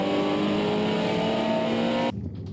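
A race car competing in a historic motor race drones past with a steady, loud engine note that cuts off abruptly near the end, leaving only a faint background.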